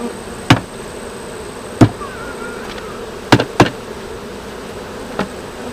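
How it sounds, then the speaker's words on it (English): Honeybees buzzing around a hive during a late July inspection, a steady close drone with several sharp clicks and bumps of equipment handling, no talk. "Bees all over the place."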